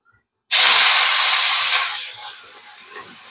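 Chopped onions hit hot oil for a masala okra dish, bursting into a loud, steady hiss that starts abruptly and then slowly softens.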